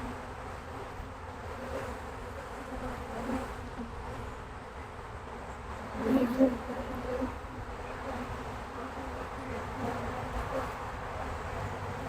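Honeybees buzz around an open hive in a continuous low drone, with a brief louder swell as bees pass close by partway through, then settling back to a steady hum.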